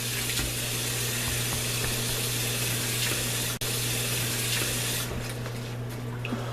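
Water pours steadily onto fish skin being dampened for ammonia-method tanning, a continuous close rushing hiss with a low hum underneath and a single brief dropout midway.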